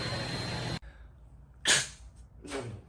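After a sudden cut from background noise, a person gives a loud, close sneeze, followed by a second softer sneeze-like burst a moment later.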